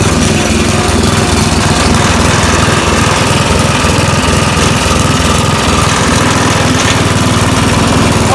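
A Snapper riding lawn mower with blades engaged runs steadily, its engine a loud, close, continuous drone with throbbing low-end pulsing and mechanical vibration, no talking over it.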